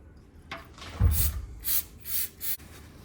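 Paper towel rubs and wipes across a greasy bolt area on a car, a few short scratchy strokes close by, quiet and without talk.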